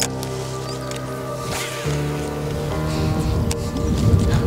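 Steady rain falls and patters on surfaces during a bass-fishing competition, a continuous hiss with low mechanical hum beneath and occasional louder drops, no talking.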